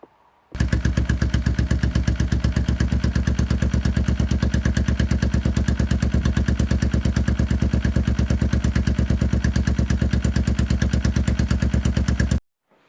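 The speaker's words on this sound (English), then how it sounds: "Okay, so as you can see, the bike is running." A restored Honda Bros NT400 motorcycle engine with a new exhaust runs at a steady, loud idle, an even pulsing beat held close and alone for about twelve seconds before it stops abruptly.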